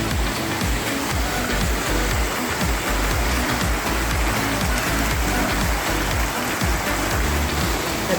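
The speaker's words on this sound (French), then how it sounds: "s'endormir près d'une petite crique où on entend la cascade d'eau" Water from a small creek waterfall at a campsite pours steadily in a dense, even rushing wash with no pauses.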